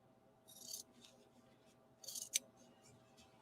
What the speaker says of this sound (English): I'm just going to freehand cut this because I forgot to cut it with the laser machine